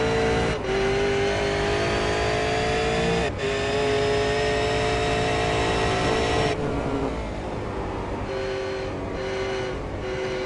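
A V8 Supercar race car engine roars on track at Sonoma, a steady loud drone with throttle changes and gear shifts as the car runs, heard alone without talk.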